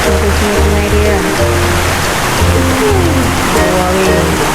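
Water runs continuously through a small stream-like pool at a nature campsite in Chenderiang, Perak, giving a loud, even rushing wash with low rhythmic tones layered over it.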